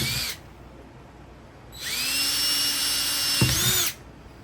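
A power drill bores holes into sponge filter parts for a DIY under-gravel aquarium filter, a short whine followed by a longer high steady run with a brief bump near the end.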